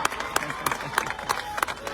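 Audience clapping and cheering at a Punjabi political rally where Navjot Sidhu addresses party workers, with bursts of applause rising in loud, uneven pulses over a steady crowd murmur.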